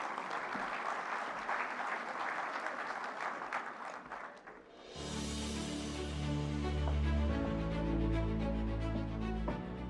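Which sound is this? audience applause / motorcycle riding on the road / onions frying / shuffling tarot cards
audience applause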